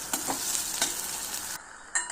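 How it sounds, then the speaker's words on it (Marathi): Dal mixture with chili powder, sugar and salt is stirred in a pan, giving scraping and sizzling strokes with a few distinct spoon taps, then a brief pause and one more stir. "हे सगळं मिश्रण छानपैकी ढवळून घ्यायचं"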